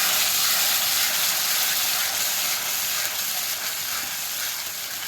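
Spice masala sizzles loudly and steadily in hot oil as it is stirred for a soya chunks curry, a dense unbroken hiss with no voices.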